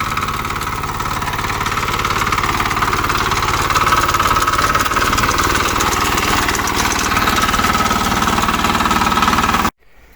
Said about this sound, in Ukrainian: Ну і копачка самі, бачите, все працює як часи.